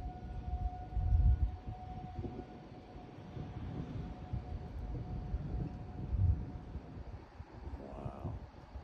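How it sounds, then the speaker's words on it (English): Tornado warning sirens wail in the distance to the west ahead of a tornadic supercell, a faint steady tone running under wind noise and outdoor rumble throughout. "Still got sirens, tornado warning sirens off to our west."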